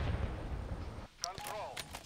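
In a Call of Duty MW3 ranked Control match on Highrise, a dense burst of close gunfire gives way to a short gap, followed by a few sharp individual shots and impacts. A voice is faintly present underneath.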